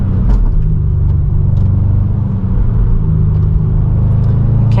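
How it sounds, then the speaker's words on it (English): A Subaru WRX STI S209 fitted with Endless two-piece rotors and MX7 pads brakes hard on an open road, heard from inside as a loud, steady low rumble of engine and road noise with no talking. "Braking hard, that felt really good actually."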